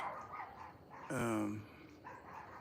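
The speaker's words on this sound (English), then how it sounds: "listen to those stupid dogs" A dog lets out a short burst of barking in the middle, fairly faint and distant, with quiet ambience before and after.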